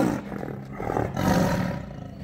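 A tiger roars in a man-eater hunting scene, a single long, rough roar that swells and holds, loud and close and heard alone, without any talk.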